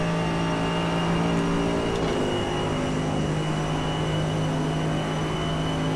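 Mercedes GT3 race car engine in the iRacing sim, a steady loud drone with sustained tonal harmonics running throughout, shifting slightly around two seconds, no talking.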